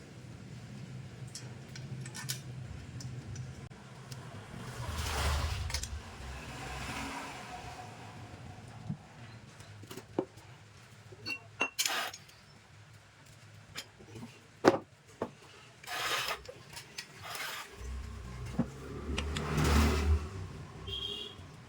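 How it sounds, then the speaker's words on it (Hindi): Nuts and bolts being tightened on a Bajaj Pulsar NS160 engine during full engine fitting in a workshop, giving scattered metallic clicks and wrench ticks with a low hum running underneath. "अब टोटली हम नट बोल्ट के सहारे इसको टाइट कर देंगे।"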